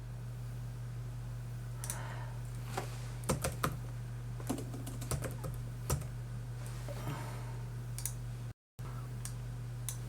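Clicks and taps from a computer keyboard while a stock buy order is entered in a trading platform, quiet scattered keystrokes in short bursts over a steady low hum, with no one speaking.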